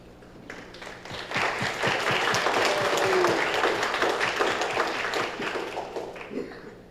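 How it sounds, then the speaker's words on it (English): Applause from the audience at an international press conference of a cross-national parliamentary alliance, swelling after a second into steady, dense clapping that holds and then tapers slightly near the end. "can you once again give a round of applause to my colleagues?"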